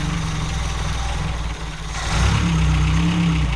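A car engine runs close by after new plug wires go on, holding a steady low idle with a brief dip before settling into a slightly louder, even rumble.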